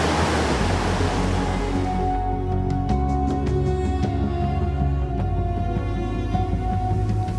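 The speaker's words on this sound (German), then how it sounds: "Ich versuche das so zu machen, dass die Welle kommt und gerade wieder weggeht." Ocean waves breaking and washing back along an Icelandic shore, a steady close roar of surf with no talk over it, later joined by some faint tonal music-like lines.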